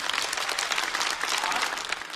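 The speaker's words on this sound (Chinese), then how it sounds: "再次把掌声送给元气满满的风心彤" Audience at a Chinese stand-up comedy show breaks into loud, sustained applause, a dense wash of clapping that holds steady throughout with no voices over it.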